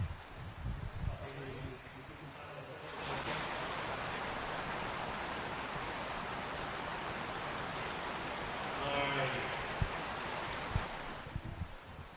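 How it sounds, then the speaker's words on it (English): Steady rain heard as a broad hiss in the background at an indoor RC raceway, faint and constant, with muffled voices over it at the start and end. "That's the rain in the background there."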